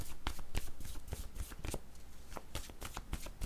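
Playing cards shuffled by hand in a card reading, a continuous papery riffle with repeated sharp flicks and snaps at a close, steady level, with no voices.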